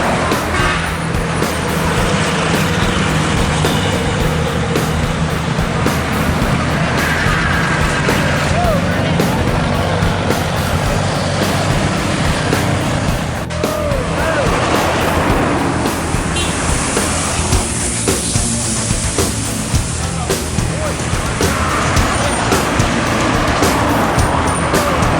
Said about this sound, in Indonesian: Bus pariwisata meninggalkan Solo